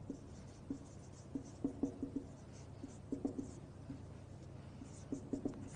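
Handwriting on paper during a physics lesson, with faint, quick pen strokes and taps in short bursts, quiet and close, no voice over them.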